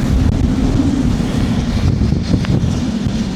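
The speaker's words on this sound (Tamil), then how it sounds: "செம்ம காற்று." Strong coastal wind at Cape Palliser, New Zealand, roars and buffets the microphone in a loud, constant low rumble with slight gusting swells and no voices.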